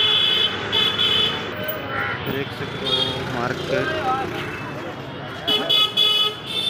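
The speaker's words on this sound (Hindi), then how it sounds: "ब्रिज के नीचे कितना ट्रैफिक है" Busy street traffic under a bridge near a Mumbai market, with car horns tooting repeatedly over a steady rumble of engines, while someone talks throughout.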